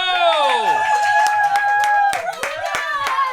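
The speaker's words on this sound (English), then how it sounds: "Round of applause for Rangan Chatterjee." A studio audience claps and cheers as a talk-show guest is welcomed, a dense, loud burst of applause with sharp individual claps standing out, while a host talks over it.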